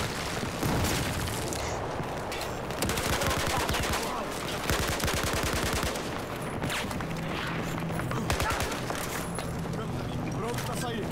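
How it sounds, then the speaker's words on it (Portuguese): Battlefield 4 combat in Baku: steady rattling automatic gunfire with heavy booming blasts including a grenade explosion, continuous throughout, while people speak over the din. "Aí, granada."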